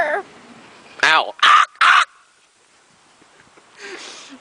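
A human voice imitates a crow's caw, giving three loud, harsh calls in quick succession, with quieter vocal sounds before and after.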